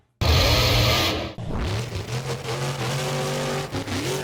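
Loud, close monster truck engine roaring at an arena show, then dropping off briefly before throttling up again in rhythmic pulses of revving.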